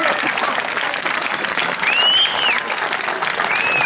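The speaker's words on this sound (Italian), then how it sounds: "Se fate un applauso, grazie." A warm audience at a music association's anniversary concert claps loudly and continuously, with a brief whistle cutting through the dense applause.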